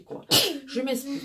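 A single sharp, close sneeze bursts out suddenly amid ongoing conversational speech, with talking resuming right after it.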